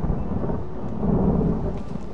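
Steady rain pours with a continuous low thunder rumble in the video game Dragons of the Edge, a dense wash of noise that fills the whole stretch with no voices.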